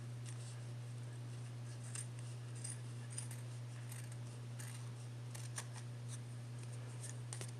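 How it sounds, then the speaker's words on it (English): Scissors cut through fabric, making faint, sporadic snipping clicks over a constant low electrical hum in a quiet room. "Maybe if I can cut this fabric."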